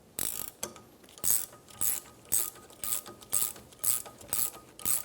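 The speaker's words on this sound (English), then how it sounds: "Tighten down the shock mount nut." A ratchet tightens the rear shock mount nut on an Infiniti G35, producing close, steady bursts of rapid clicking, about eight back-and-forth strokes in an even rhythm.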